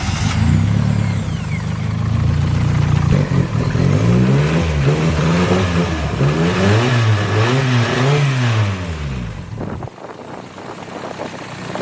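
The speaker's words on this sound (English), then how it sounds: "it does fire up and the compression sounds really good" Toyota 4EFTE engine built with forged internals and second-hand parts, revving after a cold start: a steady high idle, then a series of rising and falling revs, before cutting back to a quieter idle near the end.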